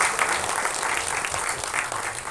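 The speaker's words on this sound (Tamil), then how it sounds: "ஒரு பெரிய கைத்தட்டலோட மேடை கலைக்கிறோம்" A festival audience claps steadily and densely for a music composer coming on stage. The applause stays fairly close and even throughout, with no clear speech over it.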